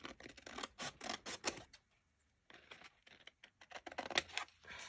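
Scissors snipping through vintage paper to trim away a small folded lip, close and fairly quiet, with bursts of crisp cutting and rustling broken by a short pause.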